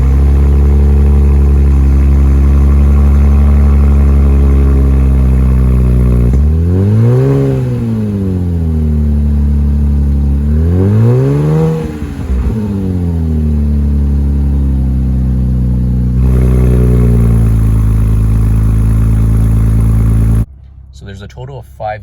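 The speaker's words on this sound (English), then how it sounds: "Here's how the exhaust sounds at startup." A 2023 Infiniti Q50 Black Opal starts up, its exhaust settling into a strong steady idle, then revving twice in rising-and-falling swells before dropping back to idle and cutting off near the end.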